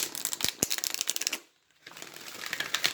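A deck of oracle cards being shuffled, with rapid riffling clicks and slaps, a brief pause midway, then more dense shuffling, close and fairly loud with no talking.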